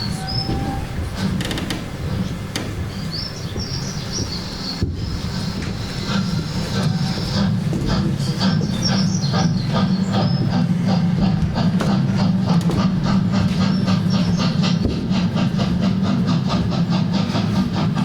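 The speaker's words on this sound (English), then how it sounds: "your train came in a little early" A train rolls into a busy station at Christmas time, a loud continuous rumble of wheels on track with rhythmic clacking, squeals and a brief whistle-like tone early on, building steadily over many seconds.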